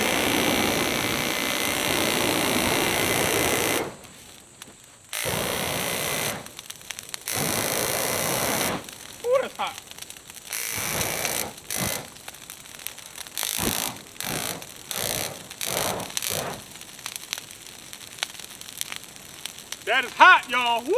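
A handheld flamethrower roars with a loud, steady hiss once lit, then breaks into a string of short, sharp bursts of flame with gaps between them, while people talk and cheer close by.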